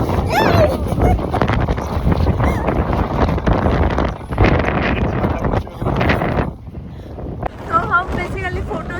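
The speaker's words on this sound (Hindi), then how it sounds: "अचानक इतना तेज हवा चलना शुरू हो चुका है ना" Strong, sudden wind gusting across a hilltop in the monsoon hills of Kurseong, West Bengal, roaring and buffeting the microphone loudly and continuously, with voices talking over it.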